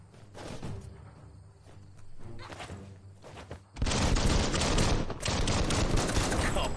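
Gunfire in the Biomutant video game: quieter scattered shots at first, then a loud sustained blast and roaring rumble that continue to the end.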